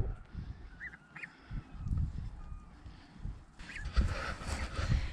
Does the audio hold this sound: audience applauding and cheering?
no